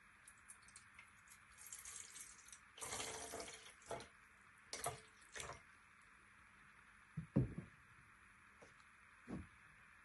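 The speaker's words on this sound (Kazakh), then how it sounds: "Міне, біз аз мөлшерде су құятын боламыз." A little water poured into a small metal pot, heard as a few soft splashes and trickles separated by pauses, faint and close against a quiet room hiss.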